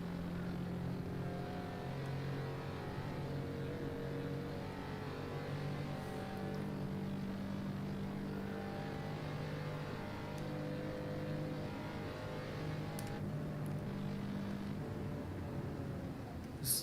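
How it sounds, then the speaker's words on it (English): A race car engine in Assetto Corsa runs at full power down a straight, a steady droning tone that holds at high revs for the whole stretch, fairly quiet and alone with no talk. "fully opening it up to unleash the full power of the engine on the straight"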